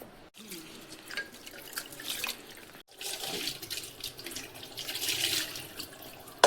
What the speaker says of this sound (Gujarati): અને બંનેને 3 પાણીથી સારી રીતે આપણે ધોઈ લઈશું